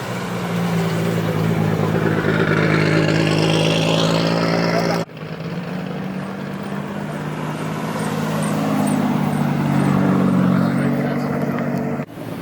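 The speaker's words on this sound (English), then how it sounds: "But we have all the GTRs leaving." Nissan GT-R cars leaving a JDM car meet in Okinawa, Japan: loud, continuous engine drone and revving with rising and falling pitch, close by, with a brief cut partway through and voices audible underneath.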